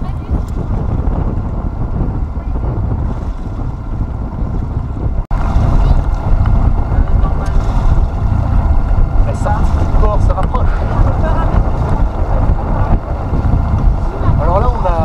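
Strong north-northwest wind buffets the microphone on a sailboat heading to Banyuls from Port-Leucate, a loud continuous rumble with water rushing along the hull that jumps louder midway, a voice speaking underneath.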